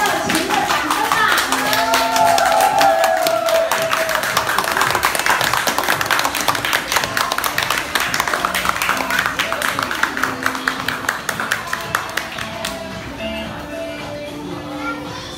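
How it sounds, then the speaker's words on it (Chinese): A crowd claps for young child designers at a children's clothing fashion show. Loud, dense applause carries on for several seconds, thins into scattered claps and then fades near the end. "大家再给他们最热情的掌声吧"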